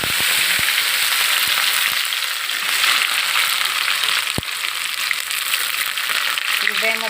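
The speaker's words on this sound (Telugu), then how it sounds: "ఉల్లిపాయ ముద్ద ఎర్రగా వేగాలండి" Onion paste frying in hot oil in a pan, a loud, dense, continuous crackling sizzle with a few sharp ticks and spatters, without voices.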